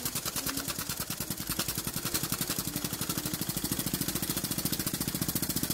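A lamppost-style model steam engine runs on steam, giving a steady rapid chuffing beat that holds an even rhythm throughout, close and moderately loud with no talk over it.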